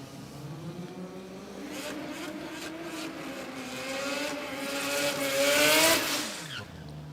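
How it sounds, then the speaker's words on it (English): A Mazda RX-7 race car at a motorsport meet approaches with a steady engine drone that swells to a loud peak as it passes close by, then quickly fades away. "this is Osman Ahmed in the RX-7"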